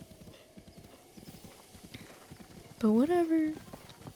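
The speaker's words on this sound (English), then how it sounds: "Now that I'm galloping with the horse" A horse gallops in The Legend of Zelda: Breath of the Wild, with steady rapid hoofbeats throughout and a loud neigh partway through, while a voice speaks briefly at the start.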